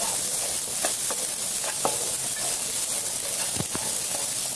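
Steady hissing sizzle of sabudana (tapioca pearls) frying in a pan, broken by several short scraping clicks of stirring.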